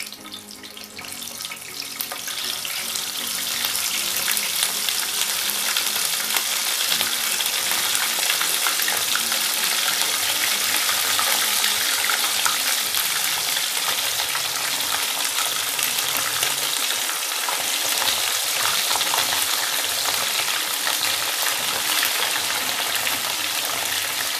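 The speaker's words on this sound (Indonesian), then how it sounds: "Yuk, kita goreng dulu. Panaskan minyak." Tofu and tempe fry in hot tropical oil over medium heat, a loud steady sizzle with dense crackling that swells in over the first few seconds and then holds constant throughout, with no talking.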